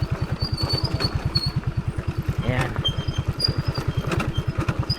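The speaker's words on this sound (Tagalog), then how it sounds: "Pero dahil magaan lang naman ang motor natin, makakayanan naman nating bumaba." A light motorcycle engine putters in a steady, regular rhythm, close and moderately loud, as the rider heads down a steep slope on a remote mountain road between Tinongdan, Benguet and San Nicolas, Pangasinan, with a brief spoken word over it.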